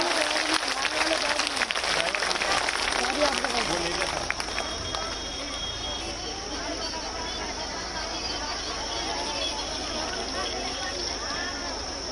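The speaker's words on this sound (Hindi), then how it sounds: "जोरदार तालियां।" Crowd applause fills a packed outdoor women's rally hall in Karauli, Rajasthan: steady, dense clapping with crowd noise, loudest in the first few seconds and then easing into a lower, continuous wash.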